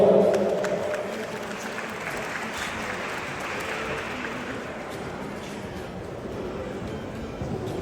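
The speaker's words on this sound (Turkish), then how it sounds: "Şimdi alkışlarınızla Burhan Muradov." A Turkish-Azerbaijani community gathering welcomes a speaker with sustained audience applause, a steady broad wash of many hands clapping that stays fairly even in loudness throughout, with no talking over it.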